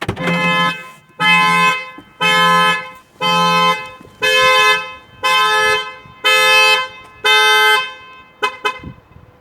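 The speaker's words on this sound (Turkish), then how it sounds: "araç direkt olarak kornayla alarm vermeye başladı" An Opel Astra H or Zafira B car alarm blares the horn in eight long, evenly spaced blasts, triggered by opening the door from inside, loud and close, then stops.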